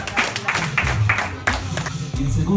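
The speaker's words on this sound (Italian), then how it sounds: "Facciamo un applauso" A few people clap in sparse, uneven bursts during a contest announcement, the individual hand claps distinct and close rather than a full crowd, with low voices and background sound beneath.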